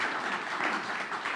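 A church congregation applauding at a Sunday service: steady, even clapping from many hands, moderately loud and unbroken for the short moment.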